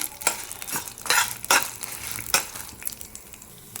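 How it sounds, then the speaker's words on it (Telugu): Whole spices frying in a pan for mint chutney, stirred briskly so repeated scraping strokes ride over a continuous crackling sizzle, close and fairly loud, with no voices. "ఇవి కూడా కొద్దిగా వేగనివ్వాలి."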